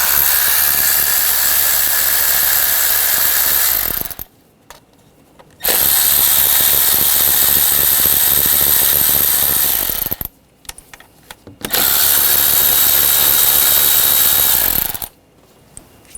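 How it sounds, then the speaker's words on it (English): A ratchet with an 8mm socket removes the ignition coil bolts on a 2013–2019 Ford Escape 2.0L four-cylinder, with three loud, close bursts of rapid clicking separated by short pauses. "Now we're going to remove the coils using an 8mm socket."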